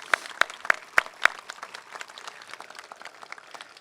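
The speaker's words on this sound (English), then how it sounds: "Let's give them all a round of applause for putting this on, too." At a Memorial Day ceremony at Mt Soledad, a crowd claps in appreciation, opening with a few sharp, distinct claps before settling into a softer, even patter of outdoor applause.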